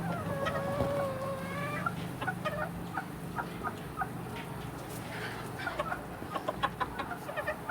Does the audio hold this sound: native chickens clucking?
yes